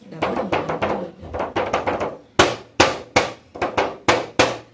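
A small toy kottu drum is beaten with sticks, a rapid run of close, sharp hits followed by evenly spaced louder strikes.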